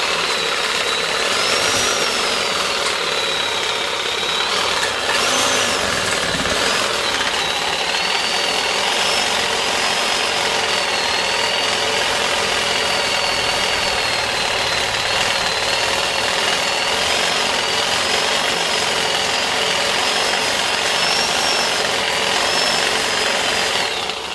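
A power tool cuts through a rear axle housing bushing on the 8.8 rear end of a 1993 Mustang Cobra. It makes a loud, continuous, close grinding buzz that holds steady throughout, with no talking.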